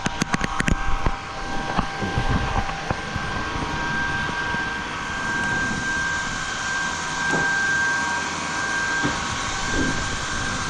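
A Shark IZ251UKT cordless vacuum cleaner runs steadily indoors with a constant whine and airflow hiss, with a few knocks and bumps early on as it is steered under a table and between chairs.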